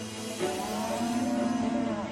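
Cattle at a concentrated animal feeding operation give a single drawn-out moo, fairly close and clear over a low background of farmyard noise.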